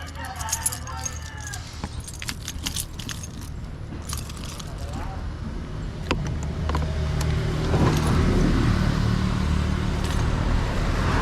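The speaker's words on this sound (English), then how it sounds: "Whoa, look at this bus." A bus passes along a road in Antique, Philippines, its engine rumble swelling as it draws near and grows loud over the last few seconds, with scattered rattles and clinks before it.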